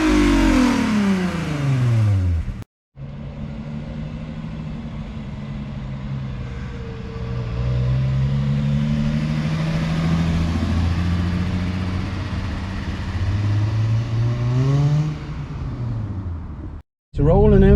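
A modified Volkswagen Golf MK2 engine revs up and settles in rising and falling sweeps, loud and close, with two brief cuts in the sound.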